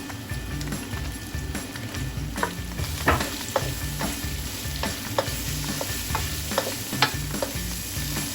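Mushrooms stir-fried in a pan for a spicy Korean seafood noodle soup sizzle steadily, with sharp scraping clicks of a spatula at irregular intervals over a dense low rumble; no talk.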